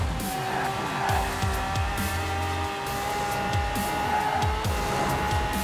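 A car in the Forza Horizon 4 racing game drives hard through corners, its engine droning steadily with rising and falling revs and tire squeal throughout, loud and continuous without talk.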